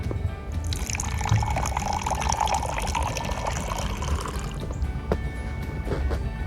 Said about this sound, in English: Then I'm gonna add the warm water.